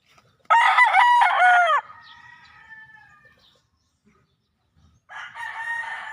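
A rooster crows loudly and close by, a long harmonic call, followed by a fainter trailing call and then another crow starting after a short pause.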